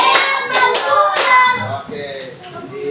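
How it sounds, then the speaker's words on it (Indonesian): Schoolchildren in a fifth-grade class clap their hands in quick bursts of claps, close and loud, with children's voices chanting between the claps. "Tepuk 1, tepuk 2, tepuk 3, tepuk 4,"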